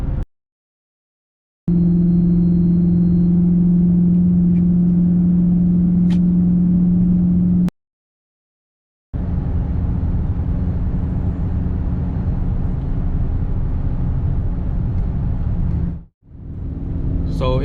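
Inside a Chrysler 300 with a 5.7L Hemi and Corsa catback exhaust, cruising at 60 mph, a low, even engine and road drone fills the cabin in two long stretches broken by short silent gaps.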